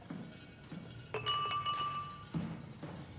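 Sturdy glass struck inside the video game SOMA, giving a few bright ringing clinks with a lingering metallic tone, fairly close and clear over a low ambient hum.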